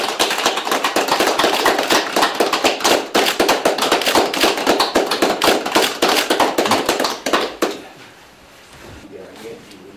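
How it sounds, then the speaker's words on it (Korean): Dense, steady applause from an audience of officials at a Korean municipal certificate ceremony, loud and close, clapping continuously for about seven seconds before breaking off into quiet room tone. "국장님들 저희 박수 좀 한번 해주십시오."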